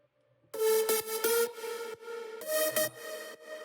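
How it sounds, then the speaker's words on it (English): A progressive house lead synth in FL Studio with sidechain compression, its sustained chords repeatedly ducking and swelling back in a rhythmic pumping pattern, loud and alone with no talking. "And this is the lead with the sidechain."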